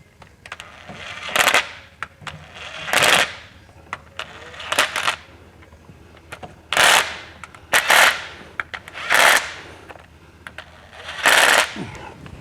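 Oil pan bolts on a 1973 VW Thing are tightened with a ratchet, heard as seven or eight short bursts of rapid clicking spaced a second or two apart, close and fairly loud over a quiet garage background.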